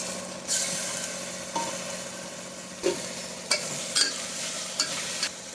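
Chopped tomato sautéed with ginger and garlic for chicken gravy, a soft frying sizzle broken by several sharp spatula scrapes and clinks against the pan, close up.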